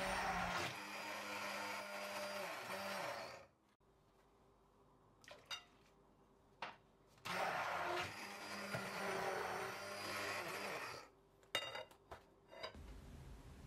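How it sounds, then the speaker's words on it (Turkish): An electric mixer whirs loudly through batter being whisked smooth, running in long steady bursts with pauses between them and a few clinks against the bowl. "Evet, homojen olana kadar çırpalım."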